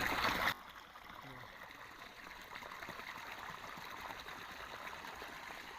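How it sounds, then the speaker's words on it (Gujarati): Water gushes and splashes steadily from a motor pump pipe, a continuous rushing flow after a brief louder burst at the start, fairly faint. "ઓલરેડી પાણી આવી ગયું"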